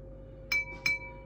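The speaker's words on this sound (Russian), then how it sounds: "Стакан в рюмку." Two quick, bright glass clinks sound as a glass is set into a shot glass while absinthe is prepared, close and crisp against a quiet background.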